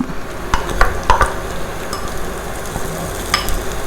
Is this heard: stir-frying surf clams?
yes